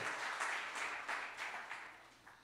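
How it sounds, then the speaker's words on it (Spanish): A church congregation applauds during a sermon, soft and fairly distant, with a steady wash of clapping that swells in small waves and fades slightly toward the end. "Give him a big round of applause."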